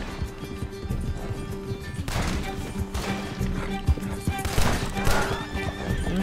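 A horse whinnies loudly several times among hoofbeats and scattered gunfire-like bangs, with a brief voice in the background, in the video game Red Dead Redemption 2.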